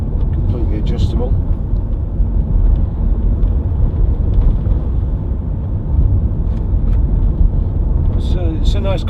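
A 2007 Peugeot 807 2.0 HDi Executive MPV driving, heard from inside as a steady, loud engine and road rumble throughout, with brief voice-like sounds near the start and end.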